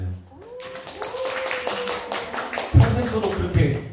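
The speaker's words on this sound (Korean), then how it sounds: "박수 쳐주세요" A church congregation clapping in applause during a Sunday worship sermon, a steady patter of many hands lasting several seconds with a louder burst near the end, heard alongside a voice speaking over it.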